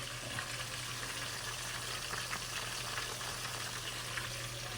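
Tilapia fries in a pan, giving a steady, dense sizzle that stays even throughout, with a low constant hum beneath it.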